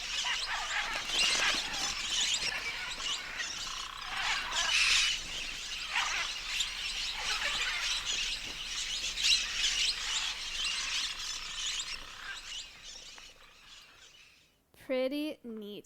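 A flock of small wild parrots keeps up a dense, continuous chatter of shrill chirps and squawks for most of the stretch, then fades as a voice briefly speaks at the end.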